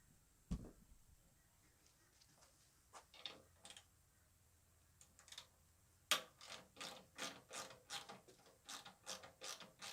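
Ratchet clicking while bolts are removed from a Kawasaki Ninja ER-6f/ER-6n or Versys motorcycle during servicing, scattered single clicks at first, then a steady close run of loud rhythmic ratcheting strokes.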